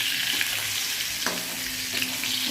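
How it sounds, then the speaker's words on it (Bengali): Potatoes and pointed gourd fry in oil in a pan, giving a continuous close sizzle with a few soft clicks of stirring. "আলু পটল ভাজা হচ্ছে"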